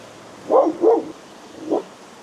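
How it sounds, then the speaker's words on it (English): A dog at a campground gives three sharp barks, close by: two quick ones, then a single bark after a short pause. "So barks like that make me nervous."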